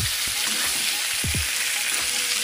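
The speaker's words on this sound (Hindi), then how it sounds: "अभी आलू को फ्राई कर लूंगी।" Potatoes fry in hot oil in a kadai, giving a loud, dense, continuous sizzle with a few low knocks from the pan, heard up close with no talk.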